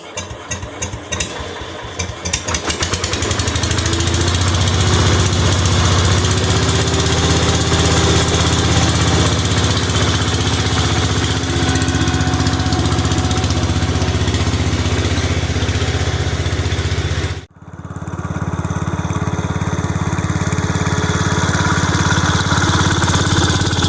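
Case IH 444 tractor engine cranking briefly after a fuel pump replacement, then catching and settling into a steady, loud, rumbling idle that keeps running with one short dip.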